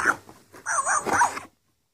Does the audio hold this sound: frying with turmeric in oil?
no